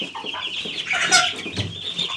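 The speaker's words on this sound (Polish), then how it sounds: "Kurczaczki i kaczuszki" Young chicks and ducklings in an outdoor pen make a busy chorus of close, high chirps and peeps, with a few lower clucking sounds mixed in.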